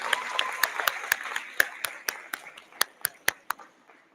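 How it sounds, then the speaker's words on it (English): Scattered audience applause at an honor society induction ceremony, a few sharp separate claps thinning out over a soft murmur of voices. "Let's give them another round of applause."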